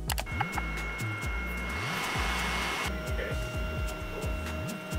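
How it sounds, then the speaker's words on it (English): A FlashForge 3D printer printing flexible TPU filament: a steady close fan hiss runs throughout, with repeated warbling stepper-motor whines rising and falling as the print head moves. "Then I'll send it to my FlashForge printer."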